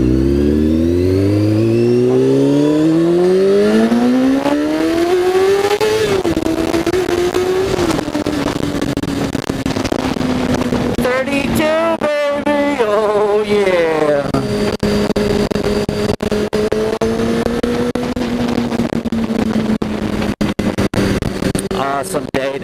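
A Honda CBR600 F4i motorcycle, a 600cc sport bike, revs up through rising gears while riding, its engine loud and continuous throughout with steady wind noise.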